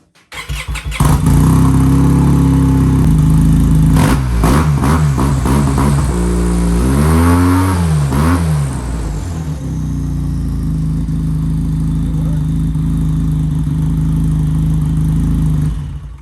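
A snowmobile with a freshly repaired clutch starts up and revs a few times before settling into a steady, loud idle as its tracks run, with no talking throughout.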